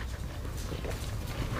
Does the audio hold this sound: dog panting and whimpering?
yes